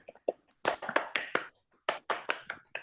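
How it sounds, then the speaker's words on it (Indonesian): Children in a classroom clap their hands together in a few quick taps, then in two short bursts of fast, close group clapping with brief pauses between. "Tepuk tangan terlebih dahulu."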